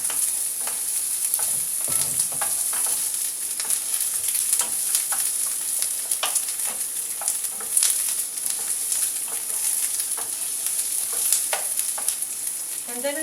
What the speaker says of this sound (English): Okay, so now my oil is hot. I'm going to dump in my onions first. Stir them around.